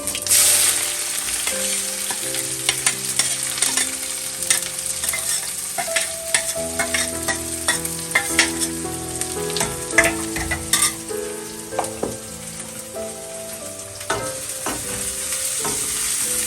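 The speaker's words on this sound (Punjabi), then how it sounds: "ਤੇਲ ਇਧਰ ਆਪਾਂ ਕੜਾਈ ਵਿੱਚ ਪਾ ਲਿਆ ਵਾ ਤੇ ਤੇਲ ਤੇ ਪੂਰਾ ਗਰਮਾ ਲਓ ਜੀ ਨਾਲ ਹੀ ਪਿਆਜ਼ ਪਾਵਾਂਗੇ" Onions and cumin fry in hot oil in a kadai, a close, steady sizzle broken by repeated stirring clatters and scrapes of a spoon against the metal.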